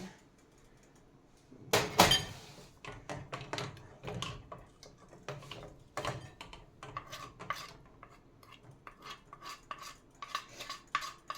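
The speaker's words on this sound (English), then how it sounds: "I'm going to use this bowl again to put the raw eggs in" Raw eggs go into a kitchen bowl with a sharp knock of shell on the rim, followed by a string of light clinks and taps of utensils and dishes, close and fairly quiet.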